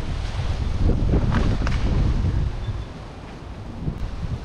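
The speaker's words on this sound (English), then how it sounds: "Ooh, nice gusty breeze." Gusty wind blows across an outdoor work site where a tree is being cut up with a chainsaw, buffeting the microphone in loud, uneven surges that ease off toward the end, with no voices.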